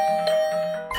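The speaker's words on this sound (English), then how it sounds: "I was brought back to the land of the living by the unrelenting ringing in my doorbell." A doorbell rings in a video game, the Hundred Line Last Defense Academy, as a steady sustained electronic chime that holds through most of the moment before a brighter burst at the end.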